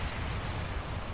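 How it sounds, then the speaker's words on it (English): A loud, sustained rumbling explosion from the video game Prototype roars throughout, broad and noisy with no speech. "all I found were explosions."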